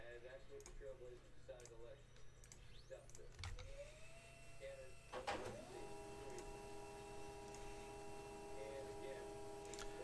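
A printer runs at a hockey card box break, starting with a clunk midway and settling into a steady whirring mechanical drone with faint ticks, heard after some quiet talk and small handling noises.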